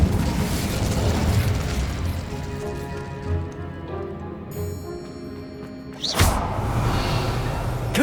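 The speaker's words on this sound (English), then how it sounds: "Incendio!" Incendio fire spell cast in the video game Hogwarts Legacy, a dense rumbling, crackling burst that swells and ebbs over several seconds, then a sharp whooshing flare near the end, loud and alone without speech.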